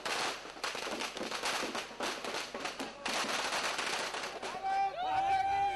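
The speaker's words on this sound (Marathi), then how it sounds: "फटाके फुटले," Firecrackers burst in a rapid crackling string as residents of Mumbai's Campa Cola compound in Worli celebrate a Supreme Court stay, loud and near, with crowd noise and a high whistling streak near the end.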